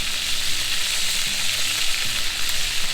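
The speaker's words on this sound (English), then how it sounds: "And then you fry the beef in oil." Beef frying in hot oil for Cambodian pickled lime soup, a dense, close sizzle that runs steadily throughout, with light stirring scrapes in the pan.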